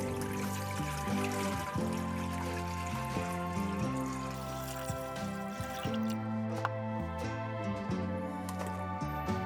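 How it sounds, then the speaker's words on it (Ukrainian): Water runs into a cooking pot in a kitchen, a steady trickling and dripping pour lasting several seconds, close and moderately loud with no talking. "каструлю наливаємо воду"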